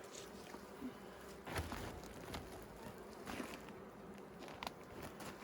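Honeybees buzz around their hives, a faint continuous droning hum near the microphone with scattered soft crackles and footsteps during hive care.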